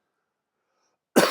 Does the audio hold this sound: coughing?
yes